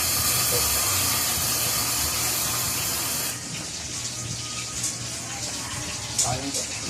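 Loud, steady steam hiss sprays for a few seconds from a leaking pressure cooker gasket, then drops to a softer hiss with faint background noise and a brief voice.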